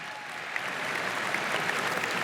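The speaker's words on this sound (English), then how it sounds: "Why are we applauding bad parenting?" Theater audience at the 76th Primetime Emmy Awards applauding steadily, a dense sustained clatter of clapping hands that builds slightly, with no voices over it.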